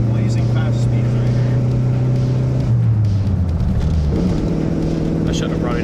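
A Chrysler LeBaron engine at full throttle in third gear, a loud droning roar with a pitch that steps up partway through, heard from inside the car with a voice talking over it.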